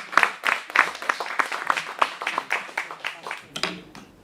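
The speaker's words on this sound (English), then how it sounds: "Raheem, give him a round of applause" Spelling bee championship audience applauding a fourth-place contestant: a modest round of individual claps, fairly close and uneven, with voices mixed in toward the end.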